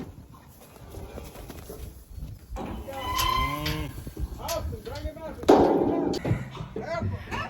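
Cattle calves and heifers being weaned moo and bawl nearby, several overlapping calls rising and falling, while people talk over the herd noise.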